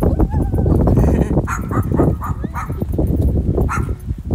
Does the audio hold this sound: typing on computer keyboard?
no